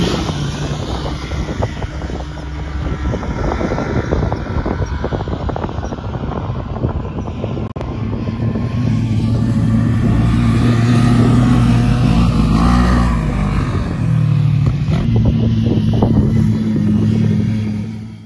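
A Polaris RS1 off-road vehicle drives through wet sand dunes, its engine droning steadily with a rising, louder growl in the second half amid wind buffeting against the microphone.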